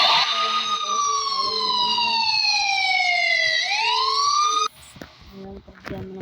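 A police siren in the Roblox video game wails loud and steady, sweeping slowly downward before cutting off abruptly, leaving quieter game noise behind.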